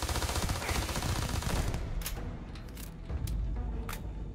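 Rapid gunfire rattles in Starfield, a dense automatic burst giving way to a few separate sharp shots, loud and close with no talking over it.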